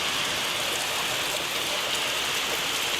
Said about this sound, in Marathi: चेक करा तुम्ही किती जोरात पाऊस चालू झालाय.